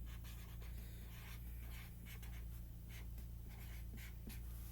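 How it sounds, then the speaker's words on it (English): Sharpie marker writing on a piece of tape, continuous close squeaky scratching strokes with short pauses between them, alone over a low background hum. "I'm gonna get a Sharpie, And I am just going to write"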